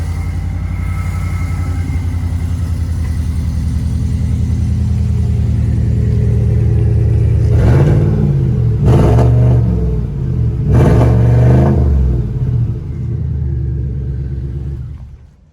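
Whipple-supercharged 6.2-liter V8 pickup truck exhaust, recorded from behind: a steady deep rumbling idle broken by three short throttle blips that rise and drop back, each revving only moderately high.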